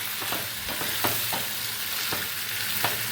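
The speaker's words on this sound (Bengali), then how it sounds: "এইভাবে মাঝে মাঝে নাড়াচাড়া করতে হবে, নাহলে চিকেনটা নিচে থেকে লেগে যাবে" Chicken frying in oil in a pan for chicken khichdi, a steady close sizzle with a spatula scraping and pushing the pieces around every so often, and no voices.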